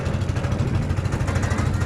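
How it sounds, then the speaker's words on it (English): A small leaf blower engine drives a raft boat on the water, its steady buzzing drone with a low throbbing hum running close and loud throughout, with no talk. "Basically just a leaf blower engine."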